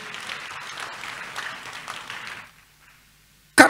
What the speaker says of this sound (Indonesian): Tepuk tangan buat Tuhan kita Yesus.